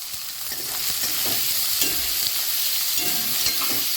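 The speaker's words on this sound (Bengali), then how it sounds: "এবার আমি পেঁয়াজটা দিয়ে দেবো দিয়ে এগুলো একটুখানি ভাজা ভাজা হবে" Onion frying in oil with ginger and garlic for chicken fried rice, a dense close sizzle that rises early and holds steady, with soft intermittent stirring scrapes.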